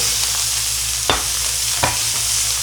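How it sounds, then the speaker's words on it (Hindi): Finely chopped, pre-boiled canned mushrooms frying in a pan, a loud continuous sizzle with two brief stirring scrapes, heard up close with no talking. "इसे फ्राई करके हल्का गोल्डन ब्राउन कर लेंगे"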